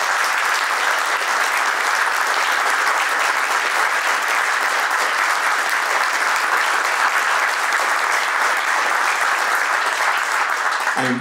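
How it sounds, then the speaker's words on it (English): A roomful of people at a village board special meeting clap continuously, a dense, loud and even wash of applause that holds steady without a pause for about eleven seconds. "So just a round of applause for her again."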